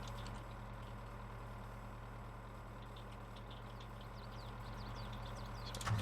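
An old Valtra tractor engine runs in Farming Simulator 22, a steady, continuous low idling drone with faint ticking above it and no voices.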